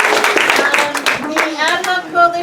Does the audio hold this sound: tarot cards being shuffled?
no